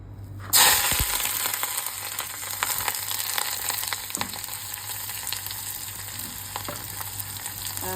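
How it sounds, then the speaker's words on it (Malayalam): Ginger, garlic, onion and curry leaves hitting hot oil and frying, with a sudden loud burst of sizzling that settles into steady crackling and spattering, interrupted now and then by stirring noises. "അതിൽ എണ്ണ ചൂടായ ശേഷം അതിലേക്ക് കുറച്ച് ഇഞ്ചി, വെളുത്തുള്ളി, സവോള, കറിവേപ്പില ഇതെല്ലാം ചേർക്കാൻ പോവാണ്."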